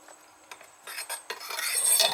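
A brass nut is worked off an outdoor shower fitting, giving quiet metallic scrapes and rubbing clicks in short separate bursts that thicken into a steadier grinding rasp toward the end.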